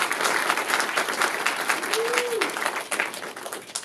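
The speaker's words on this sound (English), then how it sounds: "Let's give them a round of applause." An audience at a film festival event claps steadily for a few seconds in a full, continuous burst of applause, with a brief voice or whistle rising through the middle.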